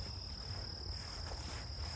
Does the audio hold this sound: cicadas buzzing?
yes